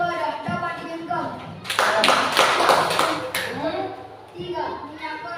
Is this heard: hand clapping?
yes